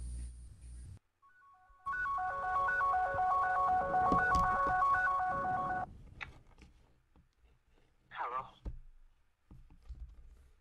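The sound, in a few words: phone ringtone from an incoming call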